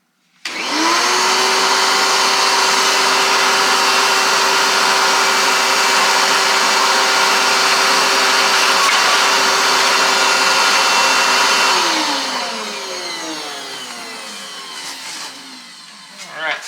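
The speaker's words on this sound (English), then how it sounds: "Let's get the other one drilled." A power drill whines steadily at high speed while boring holes for a grass flap on a Scag V-Ride mower, loud and close, then winds down to a lower hum and stops.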